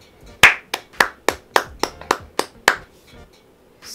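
One person claps about ten times at close range, each sharp, distinct slap spaced roughly a third of a second apart, then stops, leaving near silence.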